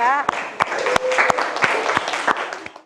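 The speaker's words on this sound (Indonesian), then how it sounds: "beri aplaus untuk kelompok 2" A small group claps for a presenting classroom group. The sharp, scattered hand claps are heard under a voice speaking over them.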